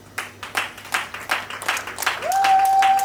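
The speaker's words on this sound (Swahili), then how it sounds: "Tuwapigie makofi." An audience at an album launch claps in quick, rhythmic bursts that build into continuous applause, joined near the end by a sustained tone.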